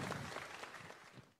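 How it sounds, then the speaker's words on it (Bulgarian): An audience at a Bulgarian concert in Burgas claps between songs, a brief burst of dense applause that tapers off toward the end. "Аплодисменти"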